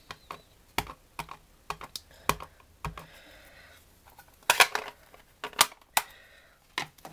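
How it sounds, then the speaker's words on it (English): An ink pad is tapped gently all over an embossing folder, giving a scattered series of light, sharp taps at an uneven pace, with a brief rustle of handling in the middle, close and clear with no talking. "And just gentle taps all over, straight with the ink pad."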